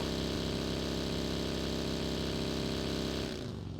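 A vehicle engine in PUBG Mobile drones loudly and steadily, a dense mechanical rumble that drops off slightly near the end.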